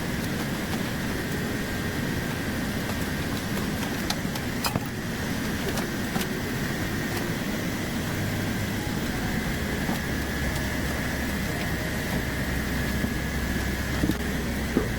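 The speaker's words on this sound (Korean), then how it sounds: "컴프레서가 부르르 소리를 내며 돌아가고 있어요" An aquarium chiller's refrigeration compressor and fan motor run with a steady low hum and broadband whir, continuous and fairly close, with a slightly deeper drone settling in during the later seconds.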